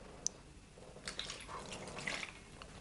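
Cooking oil pours into a baking dish of meat rolls with bell pepper, a soft, faint trickle with a few small drips and splashes.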